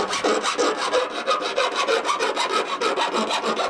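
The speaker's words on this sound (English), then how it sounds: "we're going to go ahead and file down the metal edges so that they're kind of clean" Bare metal edges of a window cutout in a Sprinter van conversion being filed by hand, a steady rasping back-and-forth scrape repeating in quick even strokes, close and fairly loud with no talking.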